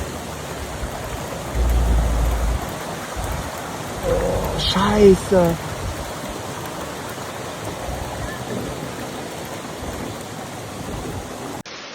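Steady heavy rain pours with a low rushing wash of floodwater in Hanover, Germany, broken by a brief shouted exclamation partway through.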